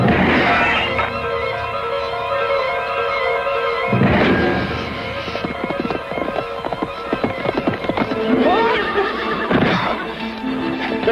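Horses whinny loudly and repeatedly in a period adventure drama scene, with hooves clip-clopping and shuffling in between the neighs, close and prominent.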